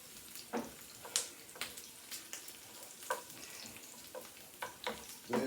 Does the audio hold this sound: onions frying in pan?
yes